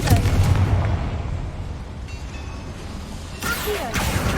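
The Confringo fire spell going off in Hogwarts Legacy, a loud, close burst at the start that rumbles away, followed by a second sharp blast near the end.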